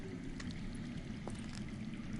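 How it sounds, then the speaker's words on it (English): Underground water flows steadily in a Game of Thrones video game, a continuous faint rushing and pouring wash with occasional soft splashes, with no voices. "I hear water. From underground."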